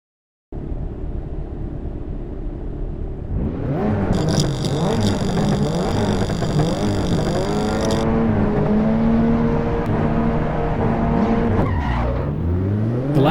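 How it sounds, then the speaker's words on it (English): All-wheel-drive DSG car with assists off, lapping the Nordschleife in Assetto Corsa EVO: a loud engine drone rising and falling through gear changes, with tire squeal and skidding noises layered in, close and continuous, no talking. "I turned every assist off and took it to the Nords"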